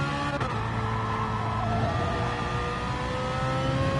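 Race car in a Spa pro-am endurance sim racing game braking hard into the chicane, a loud steady engine drone with shifting pitch held close throughout, over continuous road and tyre noise.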